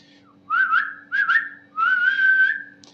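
A person whistles three rising, sliding phrases with short gaps between them, clear and close over a faint steady hum.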